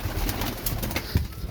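Teddy pigeons coo in a short, close run of soft low calls, with a few rustles and light taps from a home loft.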